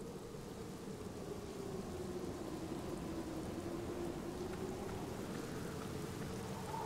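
Steady rain falls at night outside a sanatorium graveyard in the Black Mirror point-and-click adventure game, a continuous broadband hiss with a low rumbling undertone, even and moderately loud throughout with no voices.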